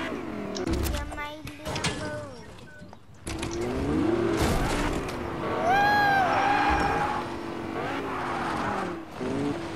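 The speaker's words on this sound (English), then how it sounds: "Your Lamborghini." A Lamborghini is driven in Fortnite, its engine revving up and falling away in rising and sliding tones, with voices talking over it throughout.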